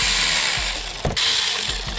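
Quick ratcheting clicks from a socket wrench loosening the wastegate actuator nuts on a Can-Am X3 side-by-side, close and fairly loud with a short pause and a sharp knock midway.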